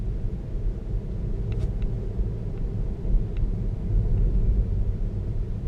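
Cross traffic on a residential street, heard from inside a Tesla waiting to make an unprotected left turn: a steady low rumble of cars going past, with the whoosh rising slightly toward the end and a few faint, thin clicks early on.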